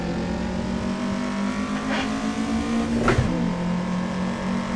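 A race car is pushed at full throttle through a drift in the Assetto Corsa driving game, giving a loud, steady engine drone that holds a high pitch, with brief tyre squeals and shifting tone partway through.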